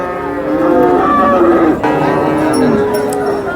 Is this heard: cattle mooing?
yes